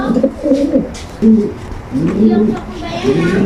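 A female pigeon coos close by in soft, repeated throaty phrases, with a voice talking over it.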